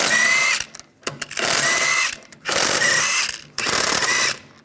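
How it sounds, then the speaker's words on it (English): Lug bolts come off a Volkswagen Jetta wheel with a 17mm socket on a power tool, which whirs loudly in three long bursts with short rattling gaps between them, close up and with no speech. "I'm going to remove the wheel, use a 17mm socket"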